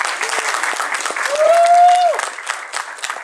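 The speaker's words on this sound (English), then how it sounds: "So again, a round of applause for Chase" Audience applause at a furry convention's opening ceremonies, steady clapping from a crowd with a sharp whistle rising over it midway.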